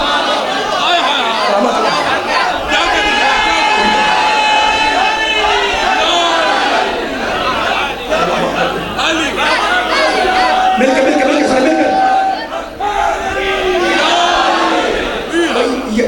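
A large crowd at a Shia majlis in a Faisalabad village raises loud, sustained collective voices in chanted religious slogans, a dense continuous roar of many people filling the whole stretch.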